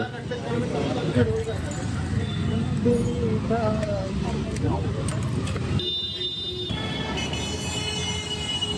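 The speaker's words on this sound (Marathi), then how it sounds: "हे संध्याकाळचं ट्रॅफिक." Evening street traffic on a busy road, a continuous dense rumble of passing vehicles with occasional horn-like tones, heard close and steady throughout.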